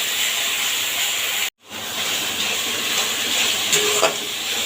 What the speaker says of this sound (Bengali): পেঁয়াজটাকে খুব ভালো করে ভাজতে হবে